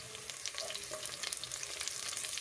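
Chopped green chillies sauté in hot oil with golden-browned onions for a potato and capsicum curry, giving a steady, even sizzle and crackle, fairly quiet and close, with no voices.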